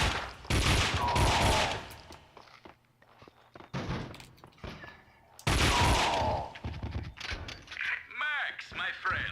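Gunfire in Max Payne 2, heard as two loud, dense bursts of shots separated by quieter stretches, with a voice talking in the gaps.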